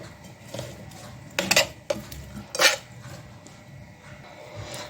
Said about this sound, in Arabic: اخلط بس كل حاجه ببعضها، اقلب بالراحه